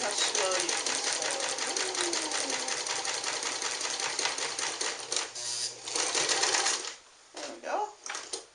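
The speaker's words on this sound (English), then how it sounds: "Look at how slow you can sew." A Nelco zigzag sewing machine runs at a slow, steady pace, its needle ticking in a rapid, even rhythm up close before it stops and a voice speaks.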